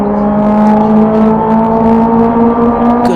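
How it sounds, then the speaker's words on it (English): Civic Cup race cars run at Donington Park, their engines producing a loud, sustained tonal drone with steady pitch and no voices over it. "Good to just listen to these cars."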